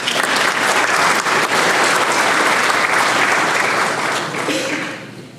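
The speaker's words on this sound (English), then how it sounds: "so give them a round of applause." Loud, dense audience applause at a small business recognition awards ceremony fills the room steadily for about five seconds before tapering off at the end.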